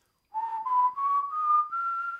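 A person whistles a single sustained tone in an oboe breathing and embouchure lesson, rising slowly in pitch across about two seconds and broken into five short breaths, close and clear with no talking.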